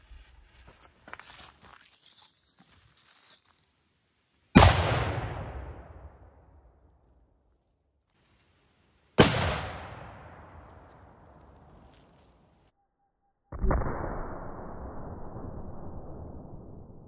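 A small cannon fires a 3D printed mini ball outdoors toward a watermelon target, giving three sharp, loud booms spaced several seconds apart, each decaying into a short echoing tail, with quiet handling sounds before the first shot.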